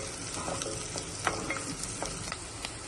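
Garlic sautés in a pan for white pumpkin kootu, giving a steady close sizzle with scattered stirring scrapes and clicks and no talk.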